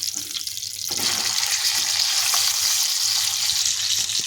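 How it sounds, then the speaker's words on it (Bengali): Two pieces of pomfret fish fry in a pan over a medium-low gas flame, giving a loud, steady, close sizzle and hiss that holds throughout without speech. "দেখুন, মাছটা 2 পিস ভালো করে লাল লাল করে ভেজে নিয়েছি।"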